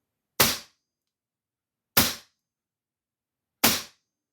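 A Walther CP5 five-shot CO2 target air pistol firing three sharp, loud, close shots, evenly spaced about one and a half seconds apart, with silence between.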